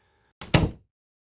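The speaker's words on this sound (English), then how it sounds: "he shut the door quickly" A door shut quickly: one sharp, loud thunk close by, over in a fraction of a second, following a faint tonal hum.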